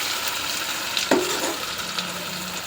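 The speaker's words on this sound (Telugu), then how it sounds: "దీన్ని మనం స్లోలో సిమ్లో పెట్టుకోవాలండి. పెట్టుకొని ఫ్రై చేసుకోవాలి." Paneer fries slowly on low heat, giving a soft continuous sizzle with a few brief stirring clinks and scrapes close by.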